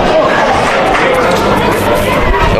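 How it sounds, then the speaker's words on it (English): A rugby crowd at a 2019 NHRU elimination final between Merewether Carlton and Lake Macquarie keeps up a loud, steady murmur of grumbling chatter throughout. "The Lake Macquarie crowd unhappy."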